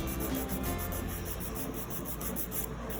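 A file rasps steadily across short fingernails, shaping them in a continuous, close, even rubbing with a faint rhythmic pulse.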